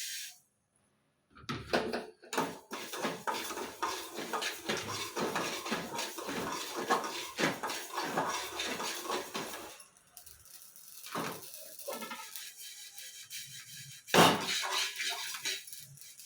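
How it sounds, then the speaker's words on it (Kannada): Mustard seeds tipped into a hot pan while sambar powder is being roasted at home, a brief pour, then a steady dense crackle and rattle of seeds popping and scraping close by, with a short lull before a louder burst. "ಸಾಸಿವೆ ಹಾಕ್ಕೊತಾ ಇದ್ದೀನಿ"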